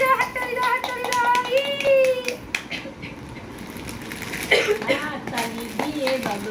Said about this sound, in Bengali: হাততালি দাও হাততালি দাও হাততালি দাও